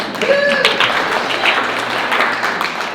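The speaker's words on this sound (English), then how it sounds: "Now, there's an applause for that one." Audience applause at a celebration of life gathering, a steady close wash of many hands clapping for a few seconds with voices mixed in.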